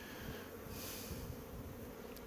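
A steady, faint hum of many honey bees buzzing at a hive, continuous and unbroken throughout, with no voices.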